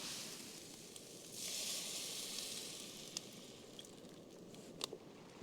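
Rice with a little spice mix and sausage simmers and reduces in a camping pot on a wild-camping trip in the rain, giving a faint, steady sizzling hiss with a few small pops and clicks.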